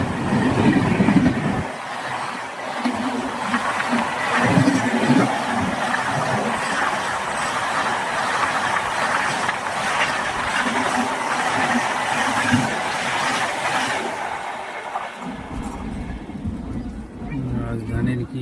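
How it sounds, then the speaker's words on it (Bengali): A fast express train races past on the adjacent rail line, a loud sustained roar with rushing wind and rapid clickety-clack that cuts off abruptly near the end, heard close from a stationary train with a voice talking before and after. "থামার পরে সেই রেল লাইনের বগল দিয়ে এমন স্পিডত আর একটা ট্রেন যায়, তো বহুত স্পিডত যায়।"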